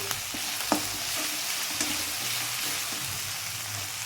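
Coriander and cumin powder being stirred in a hot oiled pan for a cabbage kofta curry, a steady close sizzle and frying crackle with a few soft scrapes of the spoon against the pan.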